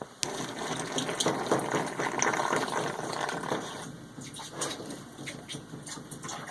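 Water gushes from a fully opened tap as a home water system's pressure is drained, a steady close rushing flow that starts abruptly and holds strong, easing slightly in the second half.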